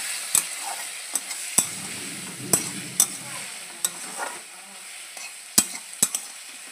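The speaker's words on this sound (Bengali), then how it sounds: "এটা একবারই আমাদের রান্না হবে, কষা কষা করব, তো সব একবারেই দিয়ে আমি চাপিয়ে দিলাম।" Prawns cooking in a spice mixture fry with a soft, continuous sizzle, broken by sharp clinks of a spoon against the pan every half second to second as the mix is stirred.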